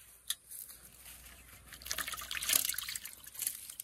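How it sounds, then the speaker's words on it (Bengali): Water poured out near a village pond onto a catch of small live fish, including small rohu, with a soft trickling and splashing that swells over the last two seconds, alone without voices. "এখানে দেখ, পানি ঢালছি দেখ।"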